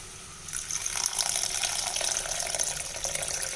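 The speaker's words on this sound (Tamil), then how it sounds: "இப்போ நான் இதுக்கு தேவையான அளவுக்கு தண்ணி விடுறேன்." Water poured from a measuring cup into a cooking pot for rava kichadi, a steady splashing gush starting after a brief quiet moment and continuing close and bright to the end.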